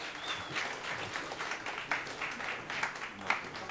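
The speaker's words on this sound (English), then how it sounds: "Let's give a round of applause for Khawaja and Madelyn." Faint applause from a conference audience in Seattle, a light, steady patter of clapping with a few sharper claps standing out, distant and without voices.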